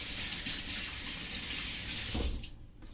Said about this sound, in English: I'm going to rinse my hands real